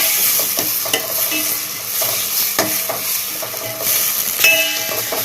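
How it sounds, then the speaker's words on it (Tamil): Tomatoes sautéing in a pan for a cauliflower and capsicum gravy: continuous crackling sizzle with repeated spatula stirs and scrapes against the pan, close and loud, no voices. "இதுவும் நல்லா வதக்குங்க. இது ஒரு 5 நிமிஷம் நல்லா வதங்கட்டும்."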